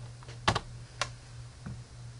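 Keys on a computer keyboard tapped in a short burst: a quick double clack, a single sharp tap a moment later, then a softer last keystroke, all close and distinct over a faint steady hum.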